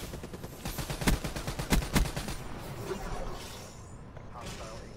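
The BRM light machine gun fires in Black Ops 3 as rapid sustained bursts of automatic fire, loud and close, before tapering into quieter game ambience.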